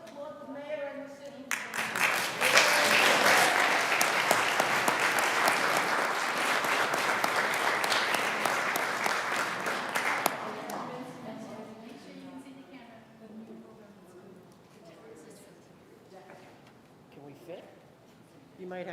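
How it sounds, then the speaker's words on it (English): At a city council meeting, a crowd bursts into loud applause lasting several seconds, then fades as people resume talking nearby. "Let us applaud the mayor and the city."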